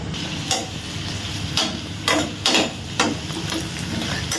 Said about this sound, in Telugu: కరివేపాకు వేసి ఆనియన్స్ బ్రౌన్ కలర్లోకి వచ్చినంత వరకు వేపుకోవాలి